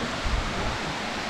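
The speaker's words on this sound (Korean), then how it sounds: "쌍용 폭포입니다." Ssangyong Falls, a twin waterfall roughly 30 and 50 metres tall on Seoraksan, gives a steady, dense roar of falling water with no break.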